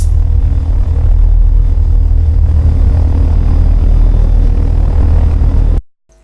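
Helicopter engine running at full throttle in the Take On Helicopters flight game, a loud steady rumble with rotor drone that holds constant for about six seconds, then cuts off abruptly.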